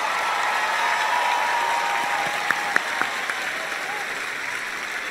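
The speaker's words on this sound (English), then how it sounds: "Please, everyone, give her a big round of applause," Applause fills a pageant hall for Miss Colombia at Miss Universe 2019, an even, steady wash of clapping from a large crowd with a few sharper individual claps near the end.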